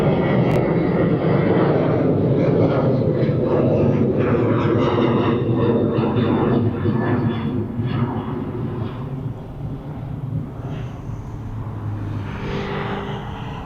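A Ryanair airliner at East Midlands Airport roars loudly and continuously, its broad engine rumble slowly fading toward the end.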